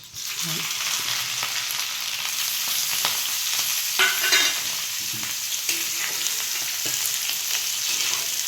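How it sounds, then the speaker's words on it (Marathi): Garlic, mustard seeds and cumin crackle and sizzle in hot oil for a Marathi tempering, a continuous close fry broken by spoon scrapes and pops. "लसूण मोहरी टाकते मोहरी जिरं टाकते"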